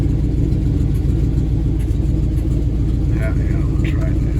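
An old truck engine idles with a steady low rumble and a ragged, puffing exhaust leak, loud and continuous, while faint higher noises break in near the end.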